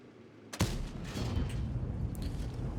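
A tank cannon fires in the video game World of Tanks, one sharp, loud boom followed by a rumbling, echoing tail and background battle noise.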